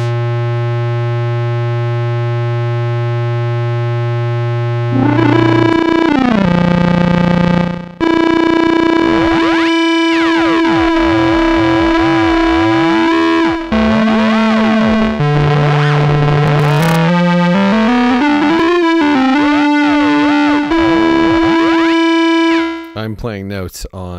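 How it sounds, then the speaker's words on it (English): Ring modulation on a Buchla Easel, with notes played on a MicroFreak synth fed into it, gives loud metallic, clangorous tones that step through a sequence of pitches with swooping inharmonic partials, alone and close. "I'm playing notes on the microfreak, which is what I have plugged in there, but you can hear the ring mod effect."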